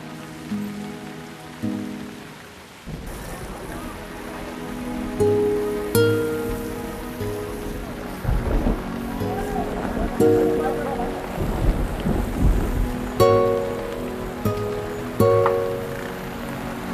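Heavy rain pours steadily on surfaces in a continuous wash, with tonal background sounds and occasional sharp knocks layered over it.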